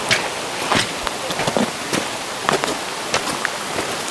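Rain patters on a summer mountain valley trail among waterfalls, soft scattered drops and light rustling ticking irregularly over a constant wash of noise, with no voices.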